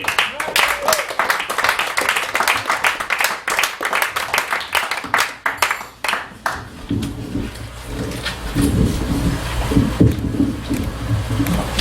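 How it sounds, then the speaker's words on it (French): Clapping and applause from an audience at a French variety stage show, dense and steady in the first half, then thinning to a lower crowd murmur with scattered claps and voices toward the end. "J'aimerais qu'on l'applaudisse."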